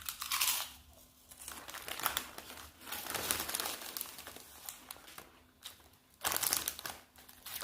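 A bag of Fox Egyptian salt and vinegar potato chips crinkles loudly up close, with bursts of crunchy rustling and crushing sounds interrupted by short pauses.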